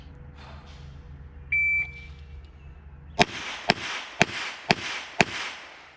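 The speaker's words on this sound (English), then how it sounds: "So I have 5 seconds for 5 shots. 32 LCR." Five rapid revolver shots from a Smith & Wesson .32 LCR, sharp loud cracks evenly spaced about half a second apart, preceded by a short electronic beep from a shot timer.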